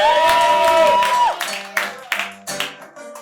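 Live late-show studio audience applauding and cheering for comedian Kiki Andersen, rising after a voice trails off, then fading into scattered claps and loud whoops in distinct bursts.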